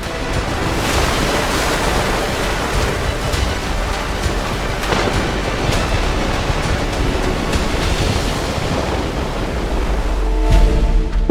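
Ocean waves surge and break continuously on a shore where orcas hunt seals and sea lions, a loud steady roar of surf with wind noise, building slightly in intensity near the end, with no voices.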